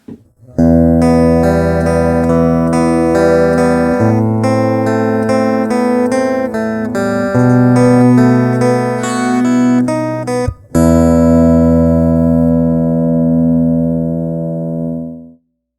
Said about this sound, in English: listen for that bridge humbucker electric guitar sound in there